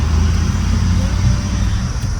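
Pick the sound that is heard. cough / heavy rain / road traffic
road traffic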